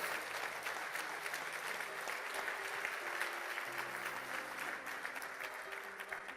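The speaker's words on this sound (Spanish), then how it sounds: "Denle un fuerte aplauso al Señor." A church congregation applauds the Lord in a dense, sustained wave of clapping that holds even and fairly loud throughout, with a faint voice beneath.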